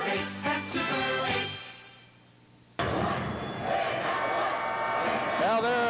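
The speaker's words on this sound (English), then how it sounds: "They're cheering it right now as they lead 42" Fairview fans cheer loudly at a 1981 Colorado state high school basketball final, with a crowd roar that breaks off briefly and then surges back, full and sustained.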